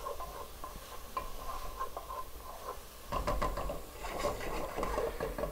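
Ground beef and onions sauté in a pan with a soft, steady sizzle and light stirring scrapes, growing busier and denser partway through.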